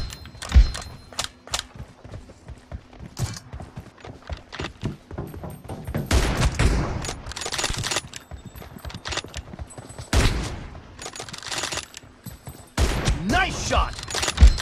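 M24 sniper rifle fire rings out during an online video game match. Sharp, loud shots and clattering impacts come irregularly across the stretch, amid busy game noise and players talking.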